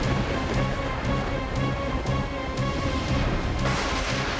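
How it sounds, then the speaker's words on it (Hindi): Steady rain falling, a dense continuous hiss filling the scene at an even, fairly loud level with no clear breaks, sounding like a heavy downpour close by. "बारिश मल्लिका के ऊपर क्यों नहीं गिर रही है?"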